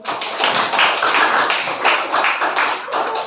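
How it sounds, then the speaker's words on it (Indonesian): A classroom of students clapping hands together in a mathematics lesson, a dense burst of close, loud claps lasting a few seconds, with no talking. "Oke, tepuk tangan."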